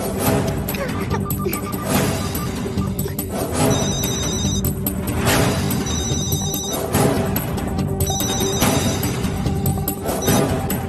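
A telephone rings repeatedly in bursts of a bright electronic trill, loud and close, with some clatter and faint voices in the background.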